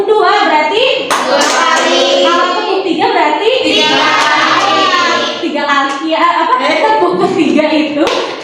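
Children play a clapping game in a classroom, with a few sharp hand claps heard among loud, close talking and voices.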